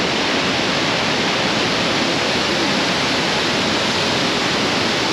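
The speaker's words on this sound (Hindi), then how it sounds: "यहाँ से भी, इसके पीछे से भी बहुत तेज़ी से पानी गिर रहा है।" Waterfall in Bosnia with water pouring down fast, a loud, dense, continuous roar of rushing water close by, steady throughout with no voices.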